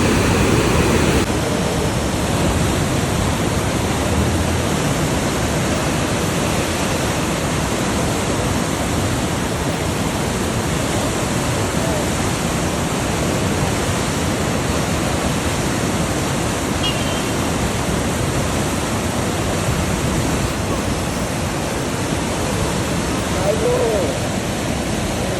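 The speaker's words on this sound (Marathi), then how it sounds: "आवाज ऐकणार का त्या खळखळत्या पाण्याचा?" Water gushes and roars over the overflowing Khadakwasla dam in a steady, loud, broadband rush that runs unbroken throughout, with no voices heard.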